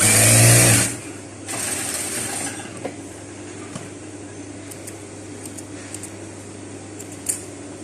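An electric sewing machine stitches the elastic-fitted sleeve hem of a simple dress in one loud, fast burst of under a second, followed by a quiet room with a low steady hum.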